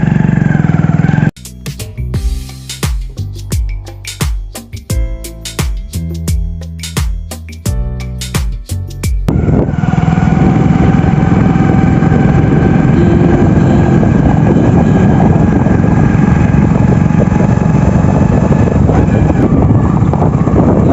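A motorbike is ridden along a village path through a darkening forest. After several seconds of rhythmic pulsing sounds, a steady loud engine drone with rushing wind noise takes over and holds to the end.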